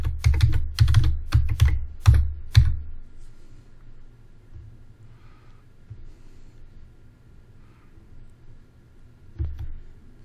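Someone types a database password on a computer keyboard: a rapid close burst of key clicks for a few seconds, then quiet room hum with one more keystroke near the end.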